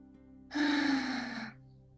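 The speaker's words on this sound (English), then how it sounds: "take one nice deep breath in through your nose and out through your mouth" During a calm prenatal yoga session, one slow, deep breath is drawn in through the nose and released through the mouth, a soft, close airy rush lasting about a second over a faint hum.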